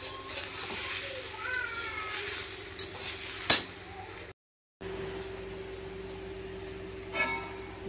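Okra and potato are stirred in a hot pan without salt or turmeric in a home kitchen, with a soft sizzle under scraping strokes and one sharp clatter, and voices faintly in the background.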